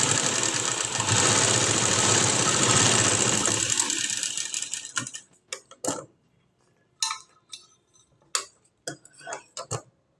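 Sewing machine stitching buttonholes on a blouse, a loud rapid mechanical whir for about four seconds that cuts off, followed by faint scattered clicks and handling taps.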